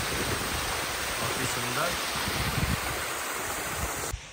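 Man-made waterfall at a hotel on the road to Chakrata, Uttarakhand, a steady broadband rush of falling water close by, with someone speaking briefly over it.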